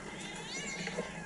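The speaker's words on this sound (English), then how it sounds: "That's my cat." A cat on a TV show lets out a drawn-out, wavering meow, mid-loud and close, with some background sound beneath it.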